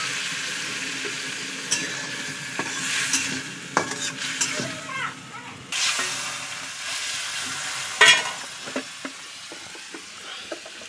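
Masala is stirred into fish frying in a pan in a village kitchen, giving a steady low sizzle broken by repeated scraping stirs and sharp metallic clinks of the utensil against the pan.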